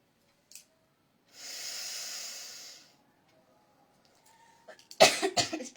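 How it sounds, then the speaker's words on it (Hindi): Coughing during an Ujjayi pranayama breathing exercise: a long hissing breath drawn through the throat, then silence, then a burst of several harsh, close coughs in quick succession. "इस प्राणायाम करने से गला में जो घर्षण होता है तो खांसी आता है"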